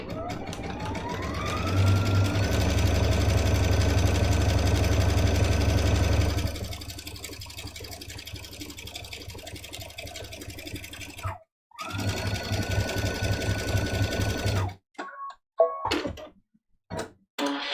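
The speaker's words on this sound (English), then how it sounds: "See how fast that zigzag stitch goes?" A sewing machine stitching a zigzag stitch on a scrappy fabric mug rug, running loud and fast for several seconds, then in shorter bursts with pauses and a few clicks.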